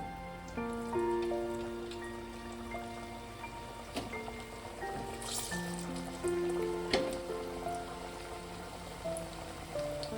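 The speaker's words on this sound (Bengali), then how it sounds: "দিয়ে আমি সবগুলো এভাবে ভেজে নেব" Rajasthani khasta kachori deep-frying in hot oil gives a steady soft crackle and patter, heard under prominent background music throughout.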